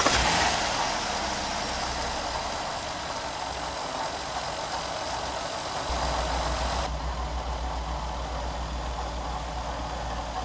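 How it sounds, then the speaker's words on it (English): A Jeep JK 3.8L V6 engine runs steadily after an idler pulley replacement while a front engine noise is being chased, with a continuous broadband hum and no talk. "And now we'll start it up and see if that noise is still there."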